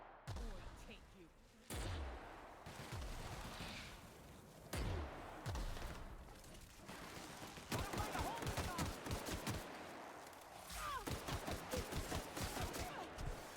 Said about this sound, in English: And we shoot a bunch of times.